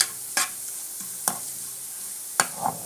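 Onions browning in a pan are stirred with a spoon, giving a soft constant sizzle broken by about four sharp scraping strokes at uneven intervals.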